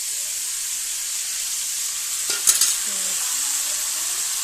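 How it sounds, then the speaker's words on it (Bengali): Ground spice paste goes into a pan of bata fish frying in oil, with a steady, close sizzle throughout. A brief clatter and splash mark the paste going in, then a slightly livelier crackle follows. "এখন আমি এখানে বেটে রাখা মশলাটা দিয়ে দিচ্ছি"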